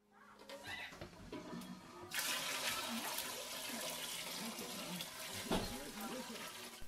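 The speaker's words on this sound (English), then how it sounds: "Rinse all the grains in your bag over your main brewing pot to get all the flavors out" Wort pours and splashes steadily into a brewing pot as grains in a bag are rinsed over it, a continuous watery rush after a brief quieter start, with faint background sounds.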